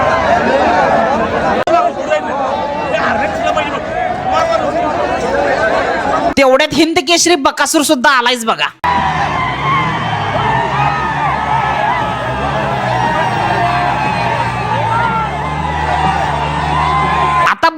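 A large, dense crowd at a bullock cart race roars, whoops and yells continuously, with a commentator talking over the din throughout and a brief burst of louder cheering partway through.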